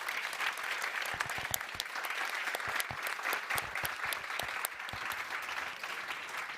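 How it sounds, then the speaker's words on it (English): A conference audience at a forest-themed solution stage panel applauds steadily for several seconds, a dense, faint wash of many hands clapping with scattered sharper claps. "So please could you join me in applause."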